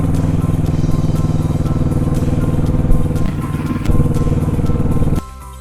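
A motorcycle cruises steadily along a well-paved mountain road on the Leh to Hunder route in Ladakh, its engine droning loud and close throughout, with a brief bump midway and an abrupt drop in level near the end.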